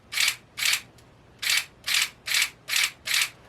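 Seven sharp, bright mechanical clicks in an uneven rhythm, close up and fairly quiet, from a Mantis Blackbeard rifle trigger mechanism being worked repeatedly with no talking.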